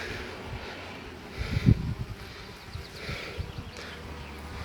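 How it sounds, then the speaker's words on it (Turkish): Drone honeybees buzzing around hives, a steady low hum with a few louder swells as bees pass close, mixed with faint outdoor rustling. "Kovanlarda erkek arılar burada."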